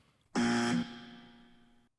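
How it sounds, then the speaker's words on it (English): A quiz show buzzer sounds once with a loud, harsh, steady electronic tone lasting about half a second, then rings away in a fading hum, heard alone with no talk. "There's tonight's first buzzer."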